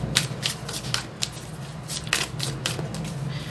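Tarot cards being shuffled by hand, a close, steady series of crisp riffling bursts that repeat in quick succession with no voice over them.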